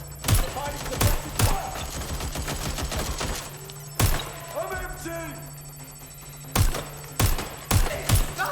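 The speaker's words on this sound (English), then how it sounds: "Shots fired! Shots fired!" Gunfire in the video game Watch Dogs Legion: sharp, loud shots in clusters and single cracks with short gaps, under a steady background hum, with in-game voices talking between bursts.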